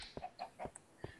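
Chickens in Minecraft give several short, quiet clucks in an uneven rhythm, faint and close with nothing else around.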